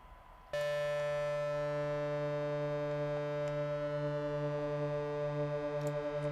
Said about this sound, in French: l'apparition du chorus et que vous discerniez l'effet